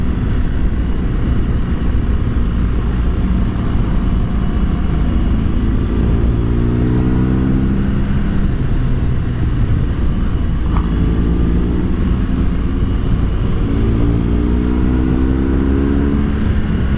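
A BMW R1200GS motorcycle's exhaust heard from behind on an Alpine road: a steady engine drone with repeated rising rev sweeps, loud and continuous with no talking.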